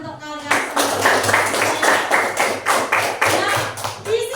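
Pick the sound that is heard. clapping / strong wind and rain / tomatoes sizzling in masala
clapping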